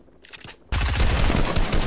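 Fortnite gunfire: a faint shot or two, then a loud, close, rapid burst of repeated shots that keeps going to the end.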